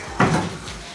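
A drawer fitted to a trailer slides shut with a single close thump followed by a brief rattle, up close and on its own with no talk.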